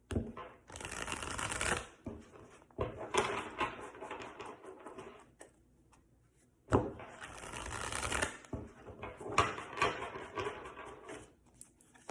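Tarot cards shuffled by hand, two long riffling bursts separated by a quiet pause, close and clear with no talking.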